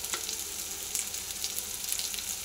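Dry ground spices with turmeric and chili powder sizzling in hot oil with onions, a dense, steady close-up crackle and hiss with no talking.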